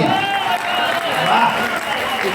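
An audience at a kavi sammelan and mushaira in an auditorium claps steadily for a poem, a crowd's applause mixed with cheering voices and chatter, moderately loud throughout.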